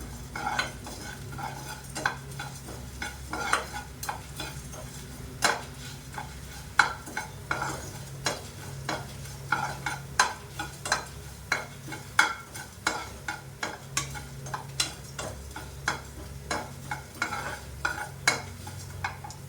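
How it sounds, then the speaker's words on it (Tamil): Coriander seeds, chana dal, fenugreek, raw rice and dried red chillies being dry roasted and stirred in a pan, with repeated scraping and clattering strokes of a spoon at an irregular rhythm, close and moderately loud, no talk. "கொத்தமல்லி வர, கடலைப்பருப்பு, வெந்தயம், பச்சரிசி கொஞ்சம், வரமிளகா கொஞ்சம் நல்லா சேவக்காய் வறுத்துக்கலாம்."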